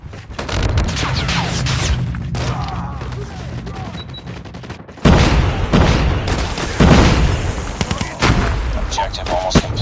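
Dense gunfire and booming explosions from the Call of Duty Mobile video game, loud overlapping shots and blasts continuing throughout with game voice lines mixed in.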